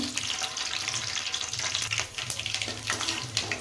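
Peanuts fry in a pan of oil for shavige bath, giving a close, steady crackling sizzle with occasional scrapes and no voices.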